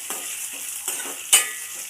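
Green chillies dropped into hot oil in a pan for a tomato roti chutney, crackling and sizzling up close, with a few stirring scrapes and one sharper clink near the end.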